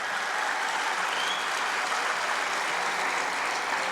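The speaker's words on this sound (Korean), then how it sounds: "찬양대는 역시 새해된교회 찬양대, 다시 한번 뜨거운 박수로 격려해 주시기 바랍니다" A church congregation at a March 1st commemorative prayer service applauds the choir, steady dense clapping from a large crowd filling the whole stretch without pause.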